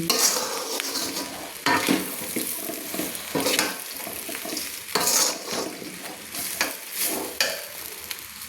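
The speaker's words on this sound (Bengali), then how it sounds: "সবজি মশলা চাল ডাল একসঙ্গে আমি তেলের মধ্যে একটু নেড়ে নিচ্ছি" Vegetables, spices, rice and lentils for khichuri being stirred in oil. A spoon scrapes and clinks against the pot in repeated strokes over a constant sizzle, close and moderately loud, with no speech.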